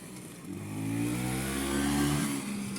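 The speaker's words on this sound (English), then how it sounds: "There's a Vespa." Classic old-school Italian Vespa scooter engine revs up steadily and holds a buzzing, mid-pitched drone for a few seconds, fairly close and with no talk over it.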